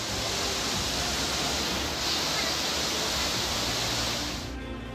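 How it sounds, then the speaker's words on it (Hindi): Floodwater pours off hills in Jaipur as waterfalls during torrential monsoon rain, making a dense, steady rushing roar with no pauses that eases slightly at the very end. "पहाड़ियों से अचानक झरने बहने लगे।"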